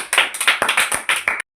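Children at a game session clap quickly for the winner, a brisk burst of roughly a dozen close, crisp hand claps that stops abruptly.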